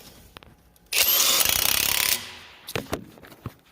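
A power tool drives down tractor bolts in one loud burst of about a second with a rapid ratcheting chatter, followed by a few scattered clanks and knocks.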